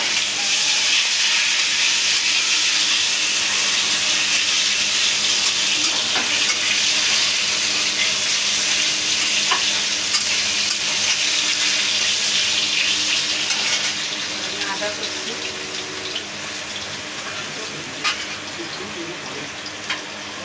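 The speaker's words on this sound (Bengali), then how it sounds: "আলুটাকে আমি একটু ভেজে নেব" Potato chunks fry in oil for a Bengali fish curry, a steady broad sizzle that holds level and then softens slightly, with a few faint clicks of stirring.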